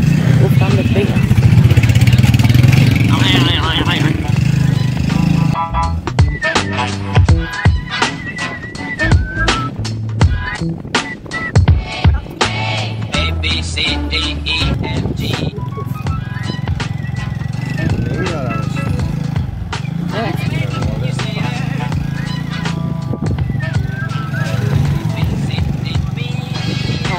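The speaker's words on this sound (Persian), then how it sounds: "حالا با موتور رفتیم توی بازار" A motorcycle rides into a crowded Friday bazaar, its engine a steady hum beneath busy market noise and a person talking throughout.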